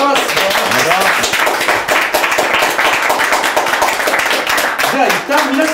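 Loud, close clapping from a group of investors on a Japanese business pitch show, congratulating a contestant who won full funding, with voices talking and cheering over the applause throughout.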